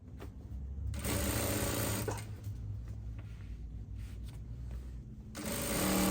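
Close by, a sewing machine stitches down a folded dress slit edge, running in two long steady bursts with a quieter motor hum between them and no talking.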